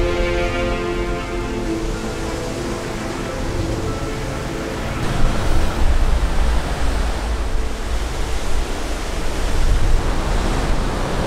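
Big ocean waves surge and splash at a blue hole along the Road to Hana on Maui, Hawaii, near a black sand beach and lava flows. The roar is steady and loud, swelling around the midpoint and again near the end.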